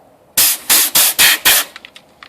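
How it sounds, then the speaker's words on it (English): A compressed air nozzle blasts dust off a computer in five short, loud, evenly spaced bursts, followed by a few quick fainter puffs. "we're going to use compressed air and this little nozzle here, this little nozzle thing, and we're going to blast away the dust"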